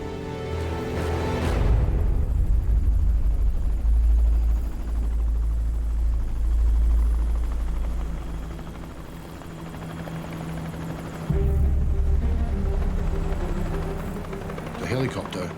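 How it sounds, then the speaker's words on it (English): A rescue helicopter over open ocean thunders in with a deep, steady rotor throb that builds and stays loud, dips briefly, then surges again as it comes nearer, with voices faintly under the noise. "The helicopter sort of came towards the mast."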